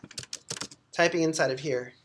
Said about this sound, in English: if I'm typing inside of here